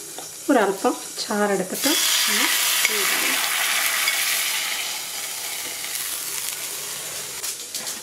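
Tempered mustard seeds poured into a Kerala-style mackerel curry made with ground coconut and raw mango burst into a loud, steady sizzle and hiss that carries on for several seconds, following a few words of talk at the start.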